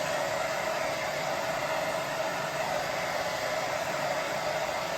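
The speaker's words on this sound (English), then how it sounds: "when you dry it with hairdryer as well" A hair dryer blows steadily and loudly at close range, drying paint on a craft project, its constant rushing whine unbroken throughout with no other sounds.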